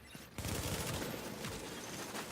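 Sustained automatic gunfire pounding a fortification in The Division 2, a dense continuous rattle of shots that starts abruptly and holds at steady loudness throughout.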